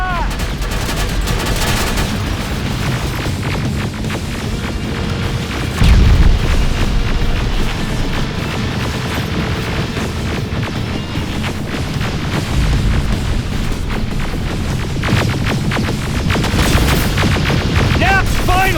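Battle in the video game Terminator Resistance, dense and loud, with booming rocket and grenade explosions layered over rapid gunfire and continuous chaotic rumble.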